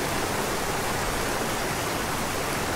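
A waterfall in the video game ArcheAge, heard as a rowboat goes over it: a dense, even roar of falling water, loud and constant with no break and no talk.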